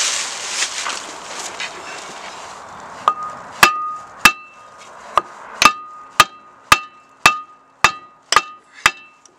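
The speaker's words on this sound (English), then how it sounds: "Here I have a small hunk of wood here, a hammer." A hammer strikes a small wood block held against a Volvo V70 brake rotor, giving about a dozen sharp, evenly spaced wooden knocks with a ringing metallic edge, loud and close, after a stretch of rustling handling noise.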